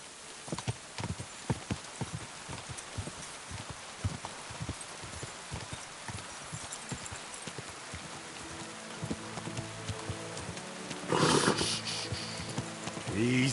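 A horse's hooves clip-clop steadily in the video game Kingdom Come: Deliverance II, a quick, even rhythm of close hoof strikes over a soft rain-like hiss, with a brief louder whoosh and a snort near the end.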